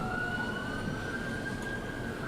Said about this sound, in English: Sorry if you guys heard the sirens.